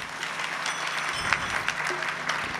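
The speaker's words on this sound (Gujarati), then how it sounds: "એકવાર તાળીઓ વગાડો આ દેવલમાં માટે." A crowd at a devotional bhajan gathering applauds for Deval Maa, a continuous wash of clapping with a few sharper claps standing out, fairly close and sustained.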